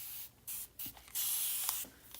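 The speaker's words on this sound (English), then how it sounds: "I'm actually just gonna spray it with some water." A spray bottle filled with plain water mists a chalkboard in several short bursts of soft hiss, separated by brief pauses, with one longer spray near the end, all close and quiet.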